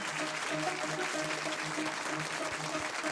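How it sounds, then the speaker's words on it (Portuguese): A studio audience applauds a Formula 1 driver, a soft, steady spread of clapping from a small crowd lasting a few seconds, with a faint hum beneath. "não vamos economizar nos aplausos para o nosso piloto de Fórmula 1"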